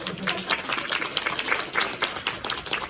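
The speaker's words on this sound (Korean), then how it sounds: "네, 다시 박수!" A round of applause from an audience at a musical performance, many hands clapping in a brisk irregular patter, moderately loud and sustained.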